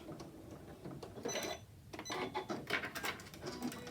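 A Janome S9 sewing machine sewing a locking stitch through several layers of cork makes quick, uneven mechanical clatter and ticking, quiet and close, with short pauses between the bursts.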